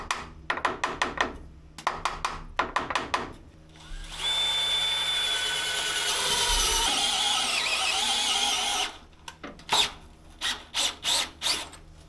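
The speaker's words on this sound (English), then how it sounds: "to be able to drill on this side" A power drill whirs steadily for several seconds beside a boat engine, framed by rhythmic knocking and tapping bursts before and after, close by with no speech.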